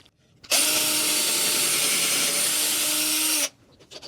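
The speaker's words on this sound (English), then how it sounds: "Now I'm going to take the drill, pre-drill into the hole for the nail." A power drill pre-drills a nail hole in a wooden stair spindle, one steady loud whirring run of about three seconds that starts and stops abruptly, alone without talk.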